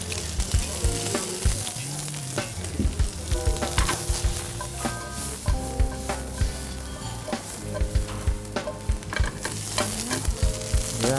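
Food fries in a pan while it is stirred, giving a steady close sizzle broken by frequent clanks and scrapes of a utensil against the pan, with no talk.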